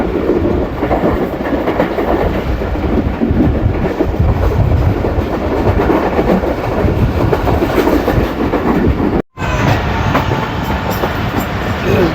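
Pakistan Express running toward Dina station in hilly country, a loud continuous rumble with steady clickety-clack of wheels over rail joints, heard from on board, with one momentary dropout near the end.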